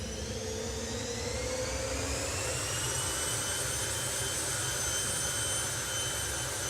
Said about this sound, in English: You can hear the jet starting.